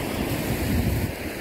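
Strong water waves surging and washing continuously, loud and close, with wind buffeting underneath and no voices.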